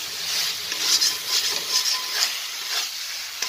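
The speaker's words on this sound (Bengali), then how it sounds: "এটা নাড়াচাড়া করতেই হবে" Food fries in a pan over a raised flame while a utensil stirs it, giving a close, continuous sizzle broken by soft scraping strokes.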